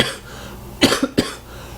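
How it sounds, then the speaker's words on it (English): A man with a slight sore throat coughs twice, sharp and close, with a brief throaty catch between the two bursts, set against quiet room tone. "I have like a slight sore throat and it's making me cough a lot."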